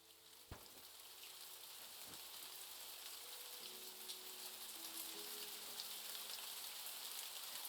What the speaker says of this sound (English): Wow, so much rain.